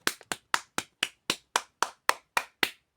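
One person claps alone, eleven crisp, close hand claps in a steady, slightly slowing rhythm over about three seconds, with no voices around them.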